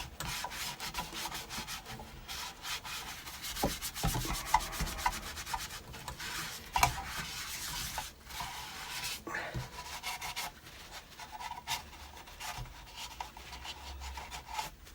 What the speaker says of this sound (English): just going to rub down the wax